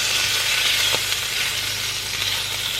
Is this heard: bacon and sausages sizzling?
yes